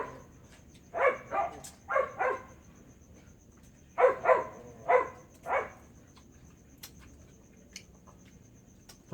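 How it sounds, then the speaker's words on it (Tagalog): A dog barks in two short bursts of three or four barks each. The barks are moderately loud and sound a little distant, with a faint high tone throughout. "maingay yung aso ko doon sa"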